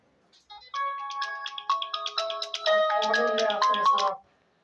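A mobile phone ringtone rings out in a classroom, a bright melodic tune of repeating tones lasting about three and a half seconds before cutting off abruptly.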